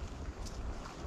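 Wind blows through forest trees as a soft, steady low rush with faint rustling, quiet and continuous without any voices.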